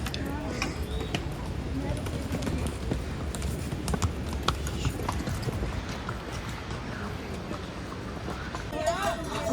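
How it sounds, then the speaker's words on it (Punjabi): Horses and mules clip-clop along the mountain trail from Govindghat to Govinddham on the Hemkund Sahib route, their steady hoofbeats mixed into crowd noise and nearby talk. "ਘੋੜਾ ਖੱਚਰ"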